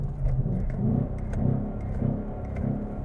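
A Lamborghini V10 engine runs close by with a steady, low, rumbling drone that swells slightly in places, heard alone without talk.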